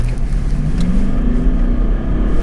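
Diesel Toyota Land Cruiser 200 with a chip tune, pulling away from a standstill at full throttle, heard from inside the cabin as a loud low engine drone with rising pitch, steady and unbroken, no speech.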